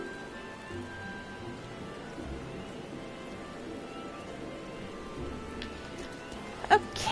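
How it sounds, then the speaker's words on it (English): Steady rain from Final Fantasy XIV, a continuous soft hiss of falling drops at an even level throughout, with a brief louder knock near the end. "It's raining, it's pouring."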